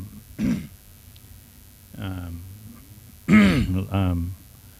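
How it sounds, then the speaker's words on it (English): A person coughs once sharply, then clears their throat and makes short voiced, throaty sounds, close and fairly loud. "Excuse me for coughing in your ear."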